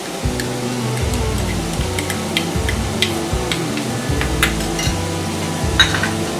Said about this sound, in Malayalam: ഇനി നല്ലതുപോലെ ഇളക്കി ഇഞ്ചിയുടെയും വെളുത്തുള്ളിയുടെയും എല്ലാം പച്ചമണം മാറുന്നത് വരെ വഴറ്റിയെടുക്കാം